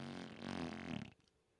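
A brief low, buzzy rasp lasting about a second, trailing off into quiet; sounds like a fart.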